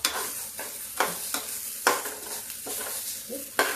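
Garlic, chili, asafoetida and spices roast in a little hot mustard oil for khichdi, with a steady close sizzle broken by regular scraping stirs of a spoon against the pan, about every half second.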